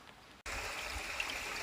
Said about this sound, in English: the rushing water is coming down over it